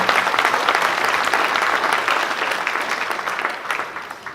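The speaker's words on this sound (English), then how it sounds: "round of applause to everybody" An audience at a sangeet celebration claps steadily in a thick, even wash of applause that holds at a strong level and eases slightly near the end.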